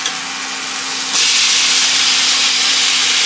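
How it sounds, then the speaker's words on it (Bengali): Marinated chicken, 500 grams for a dahi chicken curry, hits a hot pan and breaks into a loud, steady sizzle that jumps up abruptly and holds as a bright, continuous hiss. "এবারে ম্যারিনেট চিকেনটা দিয়ে দিচ্ছি।"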